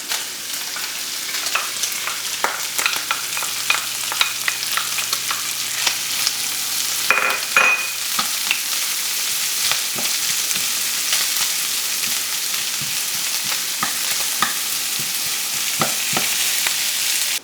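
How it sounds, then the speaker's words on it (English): Chopped onion sautés with bacon, giving a dense, close sizzle that crackles and pops steadily, with frequent sharp spatters and a brief tonal ring partway through. "now I have these onions and the bacon sauteed a little bit"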